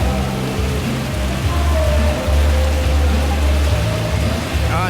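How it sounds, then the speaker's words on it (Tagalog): Heavy rain pours steadily at an outdoor hot-spring pool in Pansol, a dense, loud, continuous hiss with a low rumble underneath and faint voices in the background. "Yan, lakas ng ulan oh."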